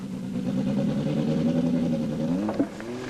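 Engine of a 1981 Renault 5 Turbo rally car during turbo setup testing, a steady mid-pitched drone held close and loud, then a brief blip of revs near the end.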